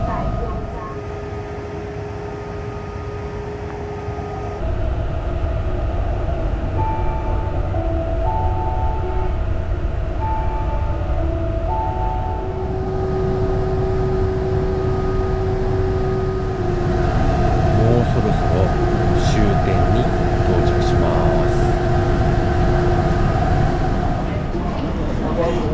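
A Taiwan high-speed rail train rolls into Taichung station, heard from inside the carriage as a steady mechanical hum with whining tones and rumble that shift partway through, with faint voices underneath.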